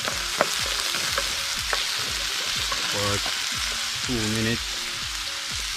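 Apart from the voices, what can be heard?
sautéing okra in a pan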